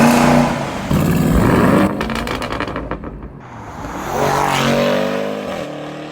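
Porsche GT4 with a FabSpeed sport catalytic converter and a 3,500 RPM soft limiter, revved loud and close, bouncing off the limiter with sharp stuttering cuts, dropping off, then revving up again.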